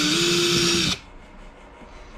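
A power drill bores a hole through the hull of a Native Slayer Max 12.5 kayak during a transducer install, a loud, steady high-pitched whine lasting about a second before cutting off abruptly into quiet room tone.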